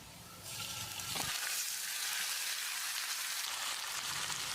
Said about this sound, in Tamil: சிக்கனை சேர்த்த பிறகு 1 நிமிஷம் நல்லா ஃப்ரை பண்ணி விடணும்.